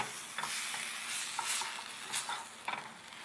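Flour being stirred into sautéed mushrooms in a pan, a soft steady sizzle with a few scraping strokes of a spoon, quiet and close with no voice.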